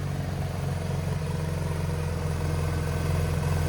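A 2019 Porsche 911 GT3 RS with a mid-muffler delete and custom-bent exhaust idles with its exhaust valves closed, a steady, low, close rumble held throughout without any talking.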